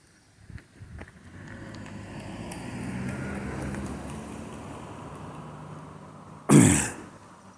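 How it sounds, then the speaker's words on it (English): A car approaches along a quiet neighborhood road near a trail crossing with a flashing-light button, its broad low rumble swelling steadily closer, then a sharp loud burst near the end. "Oh, there comes a car now."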